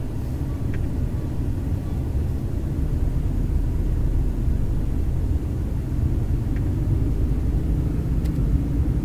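Car pulling away while making a delivery run, a steady low engine and road rumble at moderate level, continuous and even throughout, with no talking.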